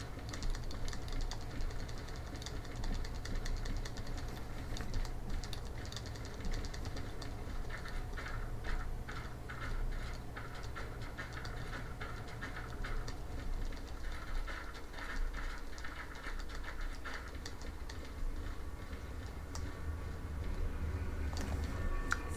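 A locomotive engine in the train game Derail Valley rumbles steadily with clanking rail noise, then its low drone drops away partway through as the engine winds down.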